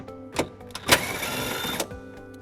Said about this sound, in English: We're going to remove that bolt using a 10mm socket.